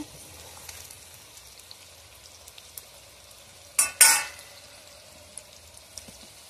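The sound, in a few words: spices added to frying mango in oil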